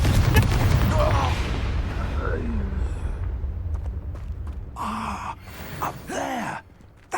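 In Hogwarts Legacy, a Confringo blasting spell goes off with a loud explosive burst at the start, mixed with a character's gasps and voice effects, then quieter magical whooshes and short vocal sounds follow.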